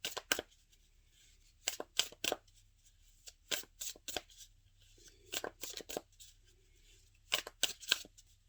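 A deck of tarot cards is shuffled and cut in short, crisp riffling bursts separated by quiet pauses, close and fairly soft, with no talk.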